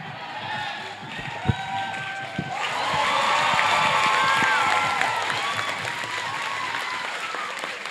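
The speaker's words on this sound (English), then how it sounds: "Listen to that crowd." Spectators at a state open bouldering finals break into loud cheering and applause as the clock runs down, the crowd noise swelling midway and staying strong, with a few sharp knocks early on.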